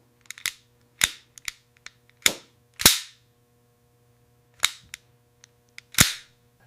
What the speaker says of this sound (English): Cycling the action.